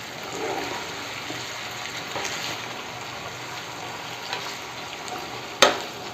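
Chicken frying in oil gets stirred, giving a steady close sizzle with soft scraping of the spoon through the pieces and one sharp clack near the end, no speech.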